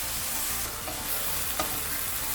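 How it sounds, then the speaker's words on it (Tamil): Vegetable kothu parotta being stirred in a pan just after salt goes in, a steady broadband frying hiss with a couple of soft scrapes, continuous and close, with no talking. "லைட்டாக உப்பு போட்டு கிண்டி விட்டுக்கலாம்."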